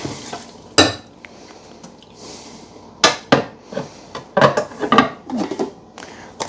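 Dishes and pots being washed at home produce sharp clinks and clatters of metal and crockery in irregular clusters, close and fairly loud, with water and quiet gaps between knocks.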